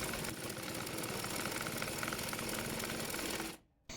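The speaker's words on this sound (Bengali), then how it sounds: "মোহরির কাপড়টি মুড়িয়ে সেলাই করে নেব" A sewing machine stitching the folded hem of baby pants runs in a steady close mechanical whir, then stops abruptly near the end with a brief quiet gap.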